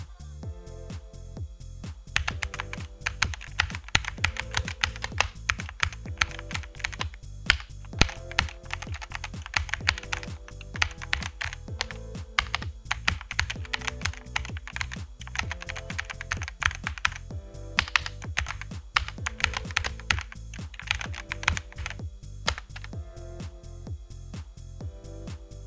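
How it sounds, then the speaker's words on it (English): Steady, fast typing on a computer keyboard, close and clear, with dense rhythmic key clicks running throughout and no voices. "Type your text."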